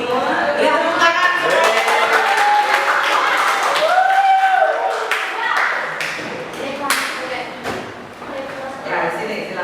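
A classroom of students claps for presenting classmates, a brisk, fairly close burst of applause, with voices and a few tonal pings mixed in.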